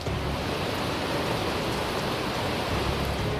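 Heavy monsoon rain pours down steadily in Dang, South Gujarat, a dense, loud, unbroken hiss throughout with no voices.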